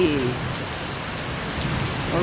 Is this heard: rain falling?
yes